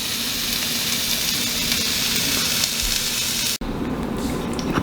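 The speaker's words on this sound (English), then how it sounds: "While I warm up this bread a little bit with butter." Bread warms in a pan with butter and coconut oil, giving a steady close sizzle and frying hiss that cuts out abruptly near the end, then resumes more softly.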